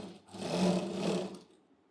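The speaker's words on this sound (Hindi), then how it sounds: "अब मैंने सीधी साइड से इसको फोल्ड करके स्टिच लगा दिया है।" A sewing machine runs a short burst of stitching on a blouse, its motor whirring up and steady for about a second before winding down, close and clear with no talking.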